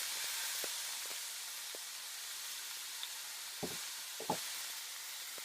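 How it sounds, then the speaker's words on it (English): Shrimp sear in a hot pan with a faint, even sizzling hiss, a few soft taps and clinks near the end, no voices. "That's going to give it a nice sizzle on the shrimp."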